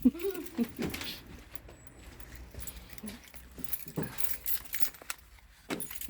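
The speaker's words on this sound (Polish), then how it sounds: "A dasz mi kluczyki od samochodu?" Car keys jangle and clink in short bursts, close and fairly quiet, among faint background movement and brief household sounds.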